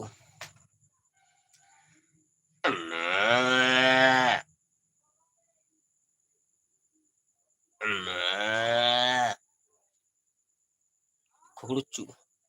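A person imitates a mooing cow in two loud, sustained, low moos separated by silence, followed by a brief burst of voice near the end.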